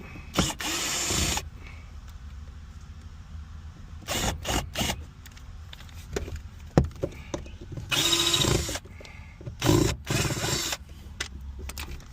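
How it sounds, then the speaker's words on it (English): Screws being taken out of the headliner of a classic Buick Park Avenue, with bursts of a power driver whirring and clicking, separated by quieter handling noises and scattered knocks, all close by. "Take these screws out."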